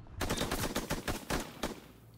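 Rapid automatic gunfire from a weapon in a competitive first-person shooter game, a string of sharp, closely spaced shots in quick bursts, fairly quiet in the mix, with no talking over it.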